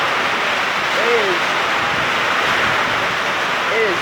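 Strong, steady wind roaring through a severe thunderstorm microburst with very heavy rain, a dense broadband rush that fills the whole stretch, loud and close, with no let-up.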